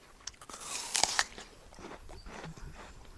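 Someone bites into a crisp, fine-grained red-fleshed apple, giving a loud, close crunch followed by several softer chewing crunches, with no talking.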